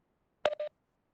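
A few phone keypad tones, one short beep then a second, sound from an unmuted phone on a group call in otherwise quiet surroundings.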